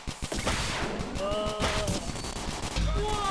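Gunfire rattles through a chaotic shootout in the video game Dude Theft Wars, dense bursts of shots layered with game effects and tonal sounds, loud and continuous throughout.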